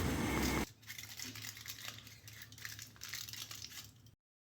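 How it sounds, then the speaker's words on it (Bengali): Foil paper crinkles and crunches as it is pressed tight over the tops of cups of homemade chocolate ice cream. The crackling is close and continuous, following a loud burst of noise at the start. "ফয়েল পেপার দিয়ে মুখগুলো বন্ধ করে দেব"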